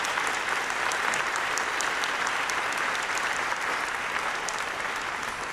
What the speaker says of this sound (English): A big round of applause for the self-fulfilling prophecy